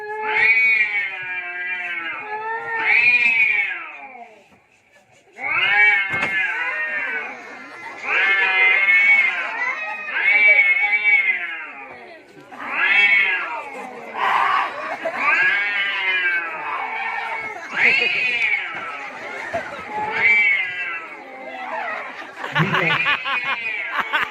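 Cats yowl and screech at each other in long, wavering wails, loud and close, with a brief pause before the fight flares up again.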